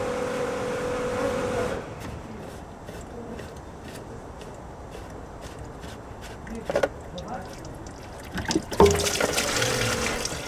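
Diesel fuel draining from a Ford Mondeo 2.0 TDI fuel filter, with a trickle of liquid into a container under spoken commentary, followed by a couple of louder handling knocks and spattering near the end.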